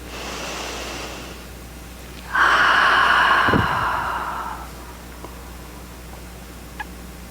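A meditation group breathing together: a soft exhale at the start, then a fuller, louder shared breath of about two seconds that fades into quiet room tone.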